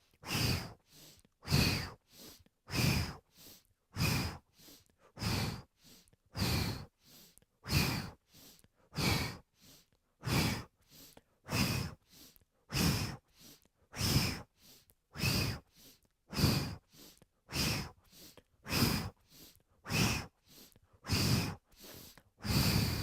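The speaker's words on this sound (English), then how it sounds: "So inhale to the left and exhale to the right." Slow, steady yogic breathing during a Kundalini pranayama practice: many deep inhales and exhales alternate in an even rhythm, close and clear with no talking between breaths.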